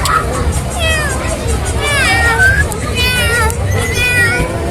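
A cat at a carnival in Trivandrum gives several wavering meows close by amid crowd babble and nearby talk.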